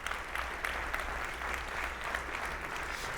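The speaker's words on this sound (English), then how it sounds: "Let's give a round of applause for all of our award-winning schools in Newport Mesa." Sustained crowd applause at a school district breakfast honouring award-winning schools, many people clapping at once in a large room, steady and moderately loud with no speech.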